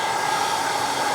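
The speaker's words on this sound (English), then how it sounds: "hairdryer" A hair dryer blasts hot air onto a vape battery's wrap, a steady, loud whooshing drone with no pauses across the whole short stretch.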